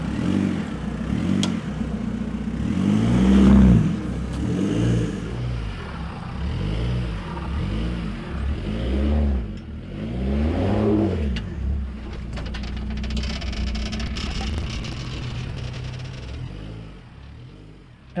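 A Jeep Wrangler JK rock crawling over a rocky trail: the engine drones up and down in a steady rhythm of throttle and revving, loud and close, with no talking.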